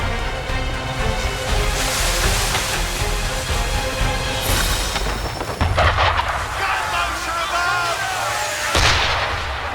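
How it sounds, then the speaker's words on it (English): Cannon and gunfire booming at a ship in the Assassin's Creed III game, heavy rolling blasts and crackling shots over a noisy sea battle soundscape, loud and dense, with some game voices mixed in. "Why is he shooting at us?"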